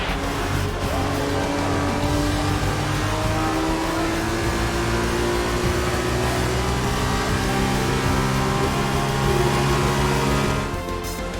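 Steady, loud whine of an F1 race car engine in the F1 2021 game at the Austrian GP, holding a sustained high-revving drone for several seconds before easing off at the end.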